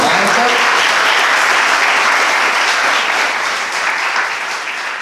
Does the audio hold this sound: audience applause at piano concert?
yes